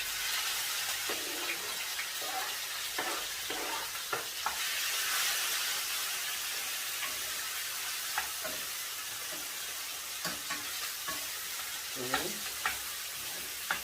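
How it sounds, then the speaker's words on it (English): Sweet pepper and a sprig of thyme sautéing in hot oil, a continuous crackling sizzle with scattered spoon scrapes and taps throughout, no voices. "sweet pepper with a sprig of thyme that I'm going to allow to be sauteed in the oil"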